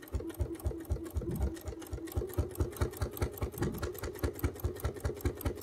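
A sewing machine stitches binding through thick layers of fabric, running in a steady, rapid rhythm of close mechanical thumps without pause.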